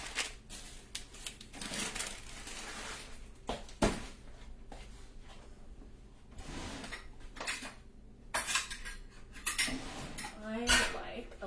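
A ladle clinks and scrapes against dishes while bacon and leek filling is spooned into quiche crusts in a home kitchen; soft, irregular clatters and taps come and go at low volume.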